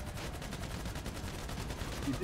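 Rapid gunfire in GTA 5 Online during a fight with a helicopter, a dense steady stream of shots mixed with game noise and engine rumble, with voices in the background.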